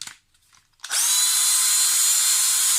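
A few faint clicks and handling noises, then a Lidl Parkside PBSA 12 C2 cordless drill whirs up and spins at a steady high-pitched whine, loud and close.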